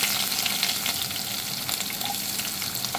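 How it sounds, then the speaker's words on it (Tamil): Chopped onions fry in hot oil with a loud, continuous sizzle close by, steady throughout with no voices. "நல்லா சூடான பிறகு நம்ம வெட்டி வச்ச வெங்காயத்தை போடுவோம்"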